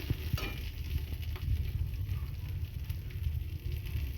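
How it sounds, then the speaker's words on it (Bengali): Onion frying in a pan with dal spices (panch phoron, dried red chilli, bay leaf and radhuni) gives a steady, close sizzle with faint crackles, no voices over it. "এবার আমি ডালটা বসিয়ে দিয়েছি, এখানে দিয়েছি পাঁচফোড়ন, শুকনো লঙ্কা, তেজপাতা আর একটু রাঁধুনি, আর পেঁয়াজটা দিয়ে ভেজে নিচ্ছি।"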